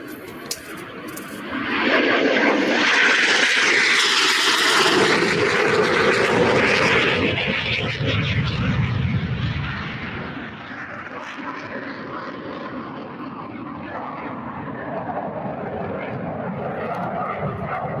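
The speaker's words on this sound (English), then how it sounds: "Looks like we're getting a high-speed low pass." Aircraft making a high-speed low pass over the runway at Oshkosh AirVenture, a loud broadband engine roar that swells quickly, peaks and then slowly fades into a lingering distant rumble.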